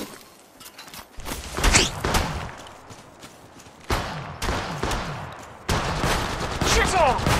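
Gunfire in the Apex Legends battle royale shooter, with loud bursts of rapid shots in several volleys separated by brief quieter gaps, mixed with other game effects.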